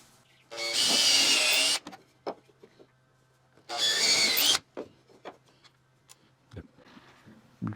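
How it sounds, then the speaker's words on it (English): A power drill bores a pilot hole into a 2x4 in two loud whirring bursts of about a second each, with small knocks and handling sounds in between. "Pre-drill a hole."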